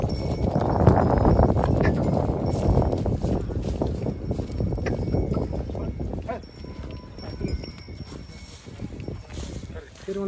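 A pair of Khillar bulls walks at a village fair, their hooves making irregular clopping steps. Wind noise and a busy outdoor crowd are heard, with voices in the background.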